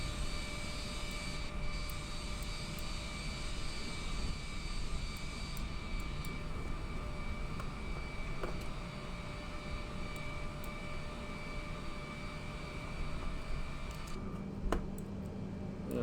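Aircraft engines at an airport give a steady, continuous roar with sustained tonal whine, holding level throughout with a brief disturbance near the end.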